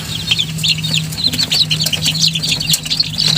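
A crowd of three-week-old native chicks chirps and clucks in a busy, continuous chatter, with occasional fluttering wings over a steady low hum.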